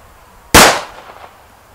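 A single sharp, loud gunshot from a Colt 1911 pistol at a shooting range, with a short decaying echo afterward.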